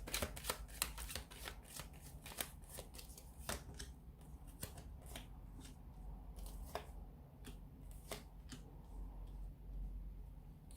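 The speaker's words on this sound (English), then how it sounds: "So we'll give the cards a shuffle here and see what's going on with your romantic energy." A deck of tarot cards is shuffled with quick, crisp riffling and tapping clicks, soft and close, continuing steadily throughout without any voice.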